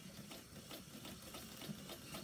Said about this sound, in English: be patient with your sewing machine and don't force it